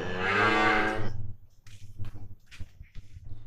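A cow lets out one long, loud moo close by on a farm, followed by quieter rustling and shuffling sounds in the pen.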